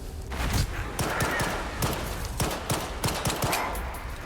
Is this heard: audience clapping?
no